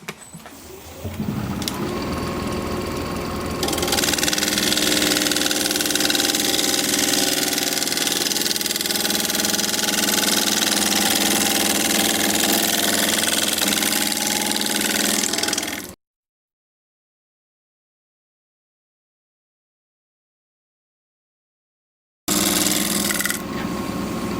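A wood lathe turns a root ball bowl at 1200 RPM, giving a loud, steady mechanical drone with a whir for about fifteen seconds, then silence, before the hum resumes near the end.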